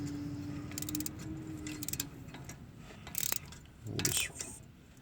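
Socket wrench ratcheting on a 17 mm bolt while front brakes are replaced on a 2013-2016 Chevy Malibu, giving quick bursts of clicking between quieter handling noise and a brief low hum, fairly close.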